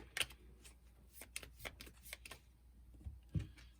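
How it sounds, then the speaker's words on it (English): Onirim card game cards being shuffled by hand, a series of quick crisp riffling bursts up close, with a heavier clack near the end; no talking. "and then shuffle."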